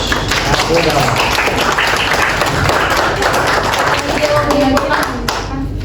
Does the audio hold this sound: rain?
no